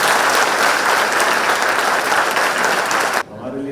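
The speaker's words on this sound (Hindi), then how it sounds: "जरा जोरदार ताली दोनों के लिए" An audience at a government event with the chief minister gives loud, sustained applause that stops abruptly, followed by a voice beginning to speak.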